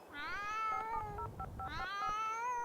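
A cat in The Sims 2 gives two loud, drawn-out meows in quick succession, close and clear, with light clicking between them.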